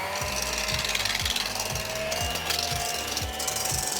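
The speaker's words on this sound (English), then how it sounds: "Just whip up those egg whites till they're soft and fluffy." An electric mixer whips egg whites for fluffy pancakes, making a steady, fairly quiet mechanical whir with regular dull knocks as the beaters hit the bowl.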